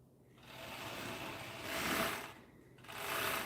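A very quiet sewing machine runs in soft whirring surges, swelling and easing in two or three short bursts with no voices over it.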